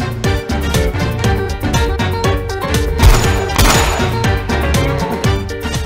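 Gunfire in a comedy film scene, rapid repeated bangs and crashes layered over music, with a denser burst of impacts midway.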